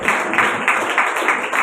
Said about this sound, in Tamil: கைத்தட்டி நல்ல ஆண்டவர் தோத்திரம் பண்ணுறோம்.